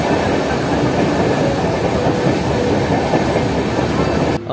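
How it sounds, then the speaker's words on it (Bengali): Passenger train from Kolkata to Puri running along the rails, a loud continuous rumble with rhythmic clickety-clack of wheels heard from inside the carriage, steady throughout until a brief drop at the very end. "এই আমাদের ট্রেন ছেড়ে দিল।"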